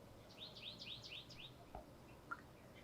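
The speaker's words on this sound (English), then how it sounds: "And listen to those birds." Birds chirp outdoors above a ravine at a stone house in San Miguel, a quick run of bright repeated tweets followed by a few scattered single calls, faint over soft background noise.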